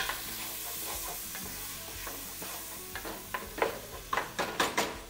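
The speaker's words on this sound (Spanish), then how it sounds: "Directamente a sofreír y con nuestra paletica de madera" Sofrito frying in a hot pan, stirred with a wooden spatula: a steady sizzle throughout with repeated scraping strokes and light knocks against the pan that grow louder and quicker toward the end, close up and without speech.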